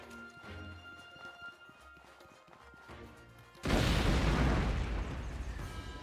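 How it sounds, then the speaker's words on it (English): An explosion goes off in the video game Outward, a sudden loud, broad roaring boom that cuts in partway through and keeps rumbling afterward. Quieter game music plays before it. "The sound of an explosion rocks the air and makes the ground tremble beneath your feet."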